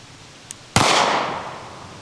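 A 9mm pistol fires a single loud, sharp shot of 115 grain Fiocchi ammunition, followed by a brief ringing decay; a small click comes just before.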